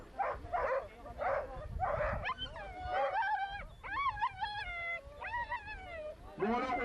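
Azawak and other sighthounds at a dog racing event, barking and whining in rapid bursts, with repeated rising yelps and howl-like whimpers close by, steady over crowd noise and a faint voice.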